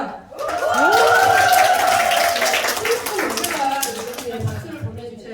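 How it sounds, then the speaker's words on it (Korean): A seated audience at a lecture event claps in a sustained, dense burst that gradually thins out, with a host's voice and some laughter over the applause. "큰 박수 다시 한번 부탁드릴게요"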